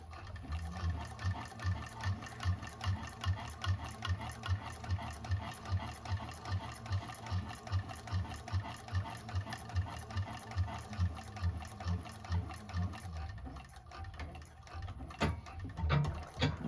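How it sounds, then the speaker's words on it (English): A 1341 cylinder arm sewing machine topstitching vinyl for a bag, running in a fast, even mechanical rhythm of needle strokes, close up and continuous for the whole stretch, with no talk. "top stitch on your vinyl or whatever you're using on the top, holding your threads, always holding your threads on a cylinder arm"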